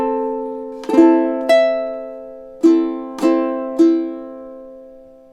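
Ukulele plays a short passage from a theme, five bright plucked chords or notes spaced unevenly, each ringing out and decaying, close and clear with no talking.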